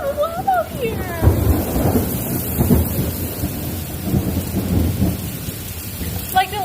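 Low rumbling thunder rolls repeatedly through a stormy night with steady rain pattering on surfaces, a couple of short voice-like sounds heard at the start and end.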